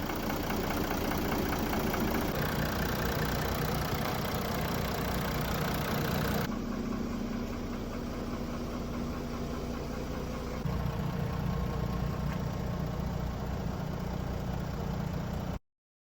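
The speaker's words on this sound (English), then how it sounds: "take a listen at the result. The engine is running so much smoother now." A Mercedes CLS engine idles steadily after a Ceratec treatment, a smooth continuous mid-low hum running close and even, with a slight shift in tone partway through and no voices over it.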